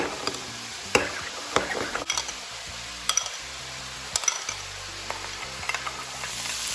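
Chicken stirred with sugar and salt in a frying pan for Thai chicken fried rice, a steady sizzle under repeated scraping strokes and sharp utensil clicks against the pan, with no talking.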